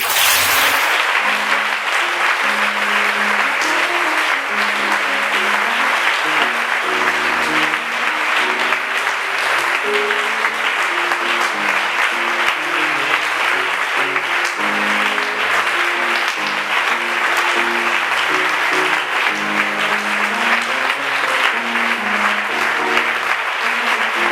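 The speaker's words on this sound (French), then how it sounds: "Acclame encore Jésus." A church congregation applauding Jesus during a prayer service, loud sustained clapping from a large crowd that continues evenly throughout, with faint voices beneath.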